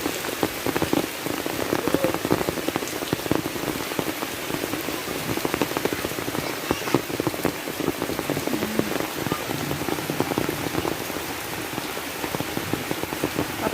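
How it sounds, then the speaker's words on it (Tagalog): Heavy rain pours steadily onto a farm in the Philippines where goats and ducks are kept, a dense, continuous hiss of drops drumming on surfaces with no break in intensity. "malakas kasi yung ulan"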